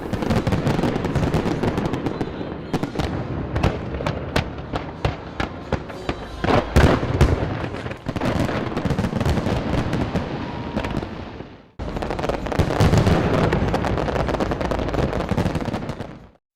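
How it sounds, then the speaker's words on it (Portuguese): A New Year's Eve fireworks display at the London Eye crackles and booms loudly and continuously, with dense rapid bursts and sharp bangs, a brief near-silent break, then another heavy barrage until the end. "aguardavam o espetáculo anual de fogos de artifício na London Eye"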